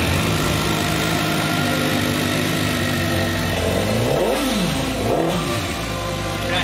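A motorcycle engine fires up and runs loud and close, with several rising and falling revs sweeping up and back down over a steady throbbing idle.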